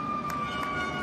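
Arena sirens blare with a sustained, even tone at a 2019 men's Olympic qualifying volleyball match between Italy and Australia as a serve is about to be made, loud against a steady crowd background.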